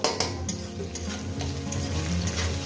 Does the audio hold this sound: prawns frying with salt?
yes